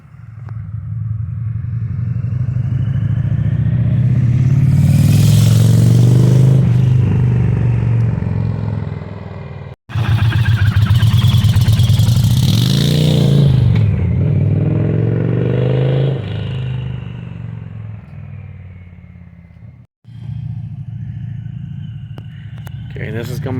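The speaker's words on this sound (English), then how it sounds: "Now we're going to come up, and he's just going to ride on by." A 2023 Indian Challenger motorcycle fitted with a Lloyd's slip-on exhaust rides past, its engine rumbling loud and close as it approaches and passes, then a second throttle-heavy pass follows, with little talk over it.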